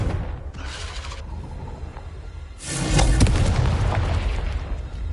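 A Confringo blasting spell detonates in Hogwarts Legacy: after a quieter stretch, a loud, broad explosive boom bursts out and rumbles on for a couple of seconds.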